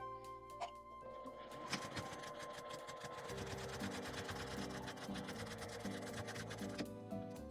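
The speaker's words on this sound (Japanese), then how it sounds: "もう一度ずれないようにクリップで留めて、真ん中から5ミリ外側を2本縫います" Sewing machine running steadily through two seams on a small folding fabric wallet, a dense continuous mechanical whirr with rapid needle chatter, close and fairly loud throughout, with no voices.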